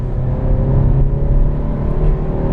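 A 2020 Honda Civic Sport Touring hatchback with a 6-speed manual and 180 horsepower pulling hard in third gear, a loud, steady engine drone heard from inside the cabin, humming and rising slightly without pause.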